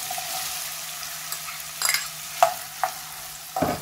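Onions fry in a pan for a cauliflower and rohu fish curry, a soft steady sizzle with several sharp utensil clinks and stirring scrapes toward the end.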